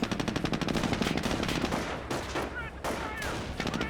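Dense rapid gunfire from a G43 rifle squad in the video game Company of Heroes, with bursts of machine-gun-like rattle, a short pause, then more shots and ricochet whistles.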